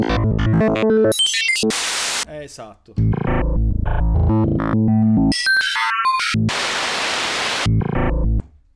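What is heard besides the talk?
white noise PCM sample on Roland D-50 synthesizer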